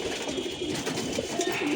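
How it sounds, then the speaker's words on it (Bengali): Pigeons flutter and coo softly while flocking down to peck at scattered grain given to warm them in winter, a steady low murmur of cooing with light rustling throughout. "দেখেন সবগুলো কবুতর আস্তে আস্তে নামছে খাওয়ার জন্য"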